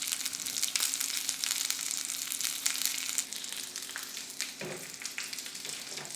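Beef short ribs coated in tomato puree sizzle and fry steadily in a hot pan, a dense close crackle with occasional scrapes and clunks as the meat is turned, no talking.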